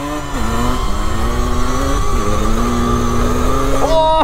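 A KTM Freeride E-XC electric dirt bike climbs uphill off-road at full throttle, its steady rising motor whine holding close and loud throughout, with brief shifts in pitch and a sharper high whir near the end.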